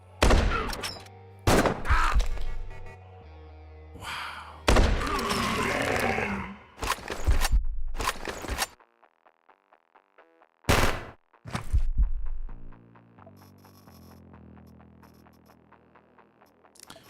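Sniper rifle shots from Quasimorph come as several loud, separate blasts with short gaps between them, then give way to quiet game music and a final shot.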